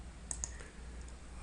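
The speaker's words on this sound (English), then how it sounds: "So I'm clicking over on the selection tool so that I can clear the selection." Two quick, light mouse clicks selecting a tool in image editing software, close but faint over low background hiss.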